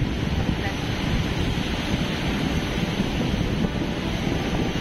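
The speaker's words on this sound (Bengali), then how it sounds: "দেখো পুরো ও ব্যাপক ঢেউ আসছে, দারুণ ঢেউ" Big sea waves surge onto Puri beach as a dense, steady roar of surf mixed with wind buffeting the microphone, loud and unbroken throughout.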